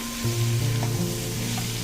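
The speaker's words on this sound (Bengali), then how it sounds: "সমস্ত মশলার সাথে চিংড়ি মাছ পেঁয়াজ খুব সুন্দর করে লো ফ্লেমে আমাদের ধীরে ধীরে ভাজতে হবে" Prawns and onion frying slowly with ground spices on a low flame, a close, steady sizzle that swells slightly partway through and carries on without any voices.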